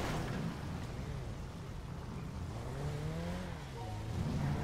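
A motorcycle engine goes by on the street, a rough revving drone with rising and falling pitch that stays fairly even in level throughout.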